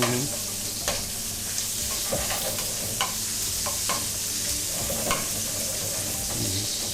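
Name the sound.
pancetta frying with mussels in a pan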